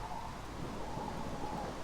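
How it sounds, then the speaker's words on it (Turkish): Video-game rain falling as a steady, dense hiss with a low thunder rumble underneath, continuous and fairly loud throughout. "Ha yağmur yağıyor."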